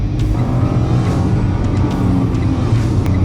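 A Renault Clio 0.9 TCe engine drones loudly and close, a steady low rumble from inside the car with no talk over it.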